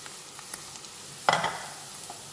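Chicken meat dropped into a hot pan with carrots while making sambusa, a sudden burst of sizzling crackle that flares and then settles into faint frying hiss, close and quiet.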